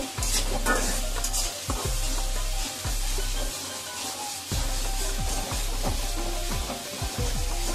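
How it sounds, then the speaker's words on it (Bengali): Onion fried in oil with spices in a pan, a constant loud sizzle broken by repeated scraping strokes of a spoon stirring the mixture, with low background hum. "ভালো করে নেড়ে চেড়ে পেঁয়াজটা আমি ভালো করে ভেজে নেব তেলের সাথে"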